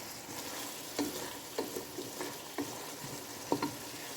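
A chili sauce and ketchup mixture for pasta is stirred in a pan over the heat, with a soft, low sizzle under regular spoon scrapes and taps about every half second, and no talking.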